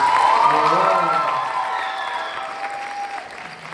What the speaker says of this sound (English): Give these folks another round of applause.